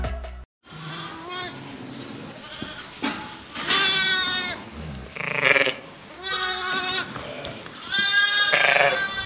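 Several lambs bleat repeatedly, high wavering cries overlapping close by, some loud and insistent, with brief pauses between calls.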